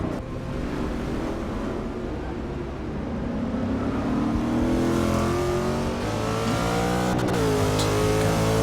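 Bentley and Corvette GT3 race cars racing in a video game, a steady roar of engines pulling hard down a straight and then shifting pitch as they brake and accelerate, loud and continuous with no talk.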